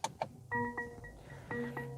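A 2021 Mercedes-Benz E450 4MATIC sounds its new startup chime inside the cabin: a few soft clicks followed by a quiet sequence of clear, bell-like tones repeating twice, faint and close.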